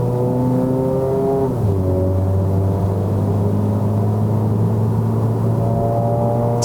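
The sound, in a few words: Mazda 3 2.0L engine accelerating in Sport mode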